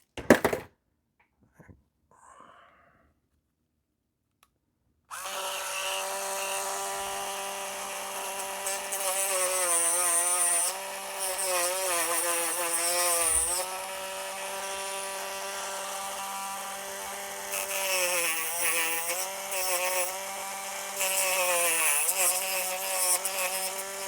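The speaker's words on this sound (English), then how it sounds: "it's got to be sanded just a little bit on the edges" A power sander buzzes steadily against the edges of a Tamiya Holiday buggy body, starting after a few seconds of quiet handling clicks, loud and close with slight pitch dips as pressure changes.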